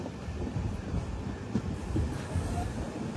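The Tirumala Express rolls through Bekkal railway station with a continuous rumble of wheels and coaches, the noise steady and fairly close, with faint clatter and a light squeal mixed in.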